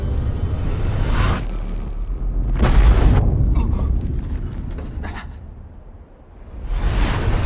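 A blue flame explosion in the video game Valkyria Chronicles 4 erupts in loud booming whooshes, with swelling rumbles and swishing bursts spread over several seconds, no speech.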